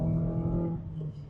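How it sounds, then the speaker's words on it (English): A Mazda Miata MX-5 ND Club Sport engine drones steadily at full throttle, a sustained, fairly muted hum heard close by with no voices. "Oh, that's full throttle, guys."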